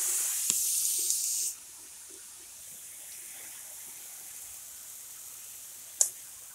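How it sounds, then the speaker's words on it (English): A building fire sprinkler hisses out a loud spray of water for about a second and a half, then the rush drops away to a faint steady wash, with a sharp clack near the end. "The fire sprinkler out here went out."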